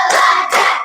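Two sharp hand claps from a counting clap game in a classroom ice-breaker, close and loud, spaced about half a second apart.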